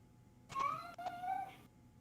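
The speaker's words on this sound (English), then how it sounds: "Just my cat meowing now." A pet cat meows indoors, two drawn-out, fairly faint calls in quick succession against a quiet room.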